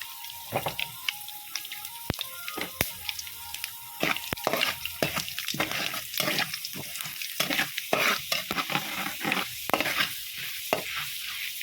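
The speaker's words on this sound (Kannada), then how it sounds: "ಕಾದಿದೆ ಎಣ್ಣೆ ಚಟಪಟ ಅಂತ ಸೌಂಡ್ ಬರ್ತಾ ಇದೆ" Chana dal, fenugreek seeds and other seasoning crackle and sizzle in hot oil for uppittu, with dense, close popping and spattering plus occasional stirring scrapes throughout.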